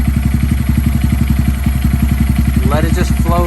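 A 2024 Honda Grom motorcycle engine, freshly started after an oil change at 700 miles, idles close by with a steady, even low-frequency putter throughout, with a short voice heard near the end.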